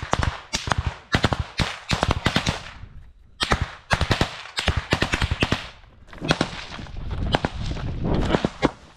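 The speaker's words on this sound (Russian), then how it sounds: "Пулемет" A machine gun fires in repeated rapid bursts during heavy combat, close and loud, with short pauses between volleys and echoing reports trailing after each burst.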